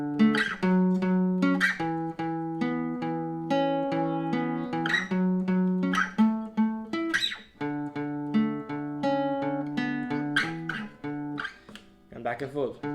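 A guitar plays the main riff of a song, with plucked notes in a steady melodic line alone and up close, with no talking.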